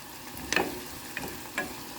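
Chopped onion, garlic and ginger sizzle steadily in hot oil in a pan, with three distinct scraping stirs of a spatula against the pan standing out over the close, continuous frying hiss.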